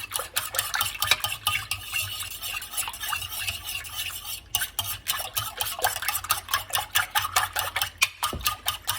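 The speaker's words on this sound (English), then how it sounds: "start breaking the 4 eggs in here. Start beating it." Eggs are beaten with milk for homemade scialatielli pasta dough: fast, continuous rhythmic clicking and scraping of a utensil against a bowl, close and busy, with a brief pause midway and no voices.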